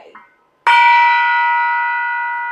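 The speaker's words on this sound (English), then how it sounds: "My gong's over there." A gong is struck once, close and loud, ringing with a long bright shimmering sustain that slowly fades, after a brief bit of talk just before the hit.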